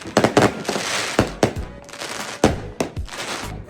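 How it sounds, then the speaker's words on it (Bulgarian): Fireworks go off in a rapid string of sharp cracks and bangs outdoors, with brief crackling between the louder bursts. "16 изстрела! Не бяха 16. Всичко ли запали?"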